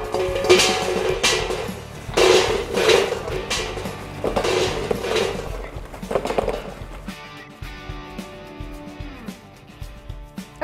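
Charcoal briquettes are dropped and scraped into the charcoal bowl of a smoker while preparing to smoke a turkey, giving several loud, close clattering bursts in the first seven seconds, followed by quieter rustling.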